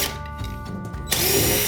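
A power drill backs out the screws on a bathtub overflow during a bathroom remodel, a close, loud whirring burst that drops briefly and then revs higher again.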